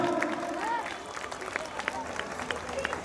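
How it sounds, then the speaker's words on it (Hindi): Crowd applause at an outdoor Ramlila event, a broad wash of scattered claps from a gathered audience with a PA voice and echoey speech over it, steady and moderately loud throughout. "जोरदार तालियां, जोरदार तालियां भाई।"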